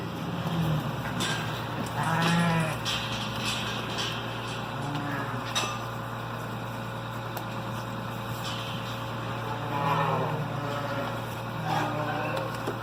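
Sheep being moved one by one out of barn pens into an alley, with scattered bleats over a steady low machinery hum in the barn, and occasional indistinct voices nearby.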